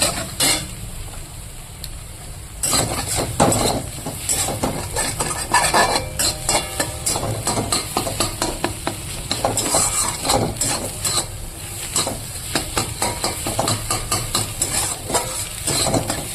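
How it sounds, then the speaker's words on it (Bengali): Two eggs fry in oil in a pan, a loud continuous sizzle with spatula scraping and clinks of utensils against the pan throughout. "আমি দুটো ডিম দিয়ে দিয়েছি এখানে এবার আমি ভেজে নেব"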